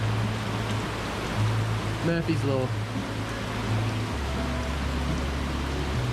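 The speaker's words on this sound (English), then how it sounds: "it rains almost straight away after" Rain falls as a steady, dense hiss on the cockpit roof of a sailboat anchored in a lagoon, with a constant low hum underneath. A person speaks briefly over it.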